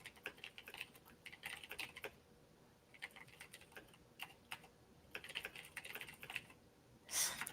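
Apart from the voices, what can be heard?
typing a chat message on a computer keyboard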